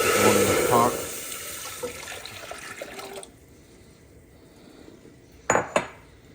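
Water pours into a cooking pot for rice while making shrimp creole, a loud splashing rush for the first few seconds, then quieter kitchen clatter and two sharp clanks of a pot or lid near the end.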